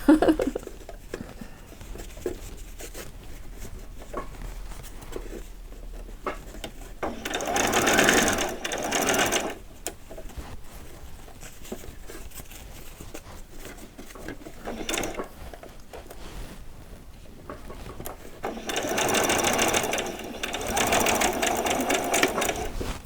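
A sewing machine runs a seam on vet scrubs in several bursts with a whirring, geared rattle. The bursts are close and fairly loud, with pauses and fabric handling between them.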